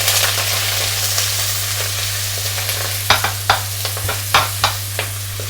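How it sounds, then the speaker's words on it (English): Foraged sea vegetable shoots fry in hot, foaming butter over high heat, a loud steady sizzle with crackling spits and a few clinks of stirring toward the end, over a low steady hum. "place them in that hot butter."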